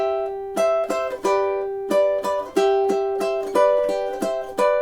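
Plucked ukulele strums out measures 7 and 8 of a song, clean rhythmic chord strokes with ringing sustain, alone and close up.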